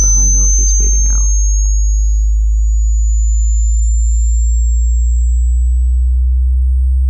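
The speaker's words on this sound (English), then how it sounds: "you should start to hear the low note come into play here as the high note is fading out" A synthesized Shepard tone built in Audiotool holds a pure high sine note that glides slowly upward while a deep low tone sustains loudly underneath, following a brief bit of speech at the start.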